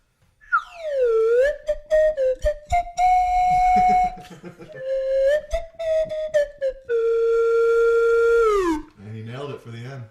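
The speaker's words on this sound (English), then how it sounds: "One slide whistle to take us out." A slide whistle plays a closing flourish over the end of a song, sweeping pitch bends rising and falling in loud continuous tones, then fades into a short warbling tail.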